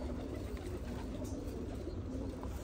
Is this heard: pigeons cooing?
yes